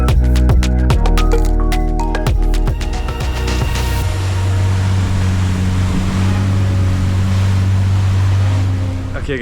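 A tour boat motors over waves near Koh Phi Phi, Krabi, in Thailand, the engine droning steadily beneath rushing water and wind, with rhythmic thumps from the hull early on.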